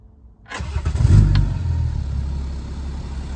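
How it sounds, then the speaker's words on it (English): A Land Rover Defender converted to a BMW engine starts up close by: a brief crank catches into a loud rev, then the exhaust settles into a deep, steady idle rumble. "you can tell lovely sound of the exhaust"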